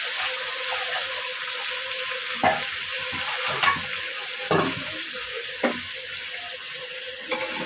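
Marinated meat frying and being stirred in a pot over browned onions, a steady sizzle with several spoon scrapes and knocks spaced through it, close and fairly loud with no talking.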